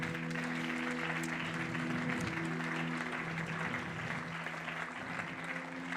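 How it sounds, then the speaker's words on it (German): Church congregation at a Sunday service applauding a family called to the front, sustained clapping from many people over a low steady organ or keyboard drone, moderately loud and even throughout. "könnt ihr ihnen einen ganz grossen Applaus geben"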